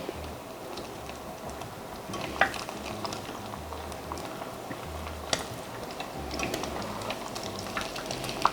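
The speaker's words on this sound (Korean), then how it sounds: "이제 여기에 이제 그 황태를 넣고 한번 튀겨보도록 할게요" Oil sizzles and crackles steadily as dried pollock fries, with occasional light ticks and clinks over the constant bubbling hiss.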